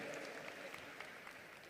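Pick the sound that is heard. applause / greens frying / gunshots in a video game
applause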